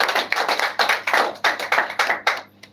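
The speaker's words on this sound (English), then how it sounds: "Let's give him a round of applause." Scattered applause at a press conference, a sparse group of hands clapping in uneven bursts, fairly close and moderately loud, with no talking.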